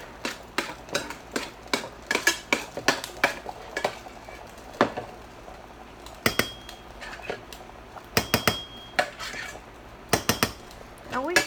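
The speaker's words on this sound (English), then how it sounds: "that's me spooning the meat over into the pot there now" A metal spoon scrapes and clinks against a soup pot as cooked meat is ladled in, making repeated sharp knocks in irregular bursts, close by, with occasional talk.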